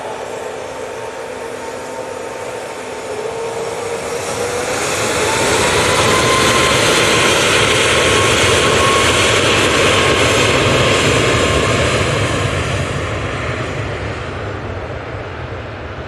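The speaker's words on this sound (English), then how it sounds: "Off to Naples we go with a 737 MAX 8." A Boeing 737 MAX 8 jet airliner takes off from Manchester Airport, its engine roar building to a loud, sustained rumble with a rising whine, then slowly fading as it climbs away.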